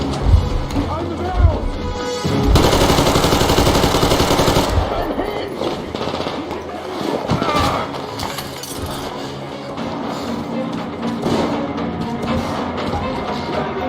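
Rapid automatic gunfire rattles in bursts during a firefight in the video game Metro Exodus, with sharp shots and a crashing break, while characters shout over the shooting.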